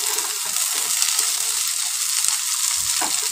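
Tomato hitting frying onions in a pan for palak paneer, giving a steady bright sizzle that fills the clip, with a few soft stirring scrapes near the end.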